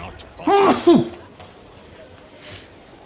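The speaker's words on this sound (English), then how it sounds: "I feel like I might sneeze." A man lets out a single loud, close sneeze with a drawn-out voiced build-up, followed by a quiet breath and background hush.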